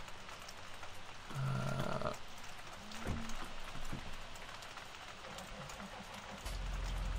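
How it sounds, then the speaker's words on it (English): Rain in the farming game Farming Simulator 17 patters steadily as a soft, even wash, with a few brief tones and thuds rising over it. "It's raining again."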